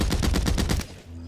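Rapid automatic gunfire in the Blacklight Retribution shooter game, a quick burst of about eight sharp shots in steady rhythm, loud and close, then cutting off abruptly.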